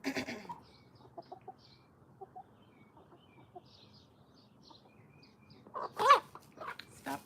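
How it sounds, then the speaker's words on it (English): Dogs bark faintly in the distance, scattered and intermittent, with a louder burst of barking near the end against a quiet outdoor background. "Start hearing all the dogs."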